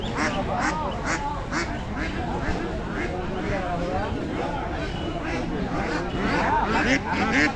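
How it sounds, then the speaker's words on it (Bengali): Many native ducks quack repeatedly and overlap at a busy rural poultry market, Dhara Bazar in Mymensingh, Bangladesh, with people talking close by throughout. "এখন আমরা এখানে যে হাঁসের বাজারটি রয়েছে সেই হাঁসের বাজারে প্রবেশ করব"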